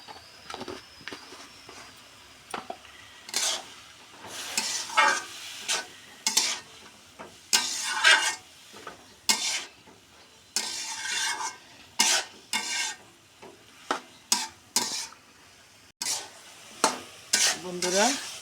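Bottle gourd curry (lau ghonto) simmering and sizzling in a pan, stirred with a spatula in repeated scraping bursts over a quiet background.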